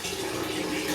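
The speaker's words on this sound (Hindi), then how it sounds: "पानी चला देते हैं।" A tap runs steadily into a bath for washing a child at home, a loud, close, continuous rush of water filling the tub.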